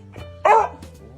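A pet dog gives a single loud, sharp bark, a burst in the middle of a short quiet indoor moment, close to the listener.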